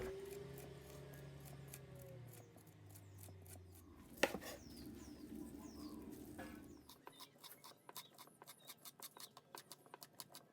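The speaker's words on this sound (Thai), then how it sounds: "ขั้นตอนแรกนะครับเรามาขูดหน่อไม้ต้มของเรานะครับ ให้เป็นเส้นๆ" Boiled bamboo shoots being scraped into strands with a grating tool, many quick rasping strokes in a steady rhythm, close and fairly quiet, with a low hum early on fading out.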